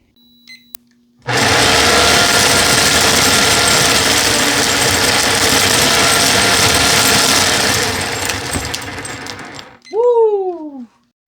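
A bench-mounted Sawzall reciprocating saw runs loud and close for about eight seconds, shaking rechargeable keychain lights attached to its blade into a harsh steady buzz and rattle, then cuts off with a short falling whine.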